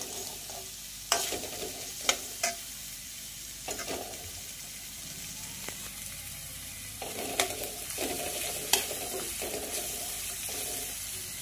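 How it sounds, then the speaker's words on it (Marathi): Ginger paste and onion fry in a pan for a paneer masala, a soft steady sizzle broken by spoon scrapes and clinks, fairly quiet with no voices. "यामध्ये घालूया आपण अद्रक पेस्ट आणि छानपैकी असं फ्राय करून घेऊ।"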